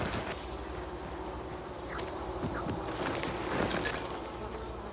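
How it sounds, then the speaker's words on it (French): Bees buzz in the zombie video game Dying Light 2, a soft continuous drone with small swooping passes over faint ambient background. "Merci les abeilles."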